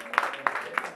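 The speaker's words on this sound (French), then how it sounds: "On a Michel qu'on peut applaudir aussi" Scattered claps from an audience at a Le Mans song-contest qualifying night greeting a jury member, three or four separate hand claps spaced about a third of a second apart over a faint room hum.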